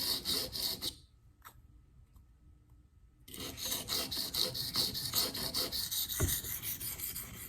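S110V knife steel drawn across a diamond sharpening stone, a steady gritty rasping scrape in close, even strokes, pausing briefly for about two seconds before resuming.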